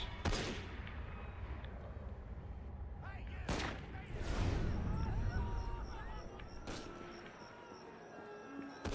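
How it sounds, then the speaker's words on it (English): Gunfire in the game Assassin's Creed Unity, several sharp cracks and bursts with echoing tails amid crowd commotion, heard at middling distance with ongoing background noise. "Why are they all shooting at somebody?"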